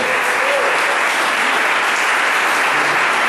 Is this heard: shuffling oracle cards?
no